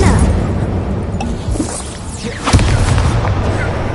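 An Incendio fire spell cast in the video game Hogwarts Legacy, a dense roaring burst of flame and rumbling booms with a sharp whooshing flare midway, loud and continuous throughout.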